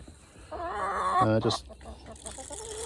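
Backyard hens, nine in all, cluck and call in a short burst at morning feeding time over crumble feed, fairly close, with a person talking nearby.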